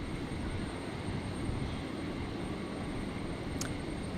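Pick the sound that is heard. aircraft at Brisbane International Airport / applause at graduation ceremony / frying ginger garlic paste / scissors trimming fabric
aircraft at Brisbane International Airport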